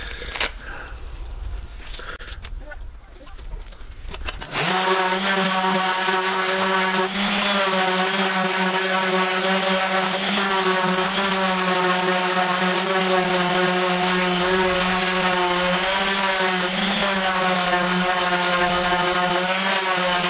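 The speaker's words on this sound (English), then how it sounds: "I'm going to sand these up now, get them nice before I reattach those stretchers again." A power sander works over wooden stool parts before the stretchers are reattached. After a few quieter seconds it settles into a loud, steady, high-pitched motor whine that runs unbroken to the end.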